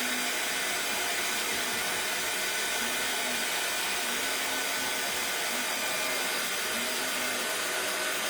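A hair dryer blows steadily on painted craft houses, giving a constant loud whooshing hiss with a faint motor whine that holds unchanged from start to finish.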